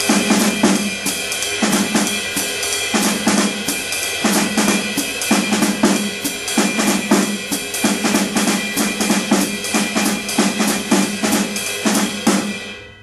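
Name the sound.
jazz drumming groupings on left hand and bass drum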